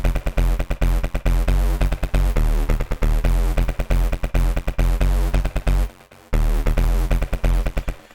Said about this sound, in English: This is just one of the default settings in Alchemy